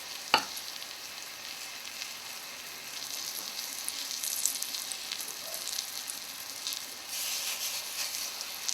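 Dough patties sizzle steadily in a frying pan, with a soft crackling hiss that swells slightly partway through after a single sharp clack near the start.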